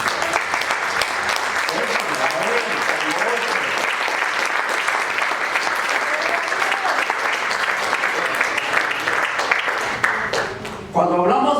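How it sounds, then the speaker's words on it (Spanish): Sustained congregational applause fills a church service, dense and steady clapping from a large crowd with some voices mixed in, fading out near the end. "den un aplauso al Señor"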